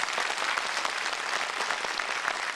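Seminar audience in a hall in Chandigarh claps steadily through the whole moment, a dense, even patter of many hands at close range with no voices over it.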